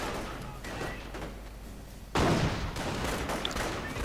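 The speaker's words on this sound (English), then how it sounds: "The anti-tank gun firing." An anti-tank gun fires in a World War II real-time strategy battle, a sudden heavy boom that cuts through a low rumble of battle noise and then trails off.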